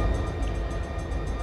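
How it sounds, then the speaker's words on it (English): A train rolls past in the Run 8 Train Simulator game as a steady low rumble with a faint high whine on top, unbroken for the whole moment. "Let my train go by for a minute."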